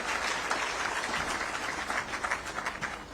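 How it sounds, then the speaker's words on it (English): Brief applause from a celebration audience for Hope Moreira, steady close clapping filling the moment with no voices. "Round of applause there for Hope Moreira."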